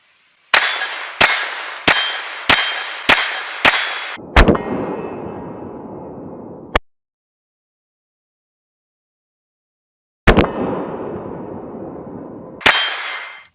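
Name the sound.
Ruger Mark IV 22/45 pistol shots hitting steel target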